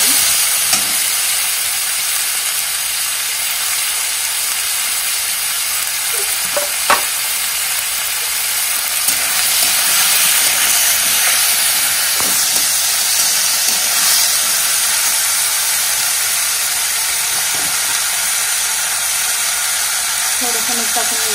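Ingredients for a paneer gravy fry in a pan with a continuous bright sizzle, occasional stirring clicks and scrapes over it, loud and close.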